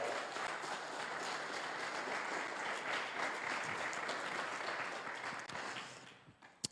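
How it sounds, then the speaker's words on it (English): A church crowd applauds steadily for several seconds, fairly faint and diffuse, with the clapping tapering off near the end. "let's give it up for David and Victoria Henderson"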